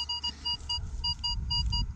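A Minelab Vanquish 340 metal detector sounds a repeating high-pitched signal tone over a buried target, several short beeps pulsing in quick rhythm above a low background rumble.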